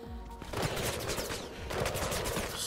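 Enemy gunfire in the Mirror's Edge Catalyst video game, dense rapid bursts of automatic shots and impacts rattling in close succession over a busy game soundscape, no speech.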